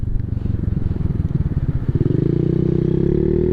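A Honda Navi motorcycle on K58 tires ridden on a cold day, its small engine putting out a loud, close, steady low throb that smooths into a continuous drone as it settles into a cruise.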